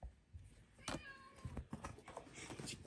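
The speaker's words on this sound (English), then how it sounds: "It's a cat." A cat gives a couple of short, faint meows close by in a quiet room, with little else around it.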